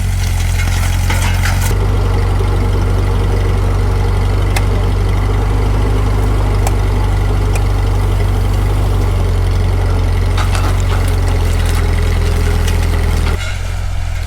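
A Ford 8N tractor's engine runs steadily while discing rough furrows along a field edge, a loud, continuous low chug with mechanical rattle, the pitch dropping briefly near the end.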